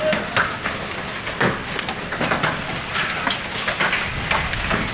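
Hailstones pelt surfaces during a sudden storm in Lahore, a dense, loud, continuous clatter of irregular sharp impacts close by, with no clear talk over it.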